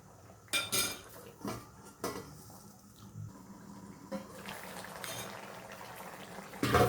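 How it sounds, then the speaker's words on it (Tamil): Crab gravy with coconut milk boiling in a pot, a faint bubbling simmer broken by several sharp clinks of a metal utensil against the pot, with brief murmured speech in places. "தேங்காய் பால்லாம் ஊற்றி நல்லா கொதி வந்துடுச்சு."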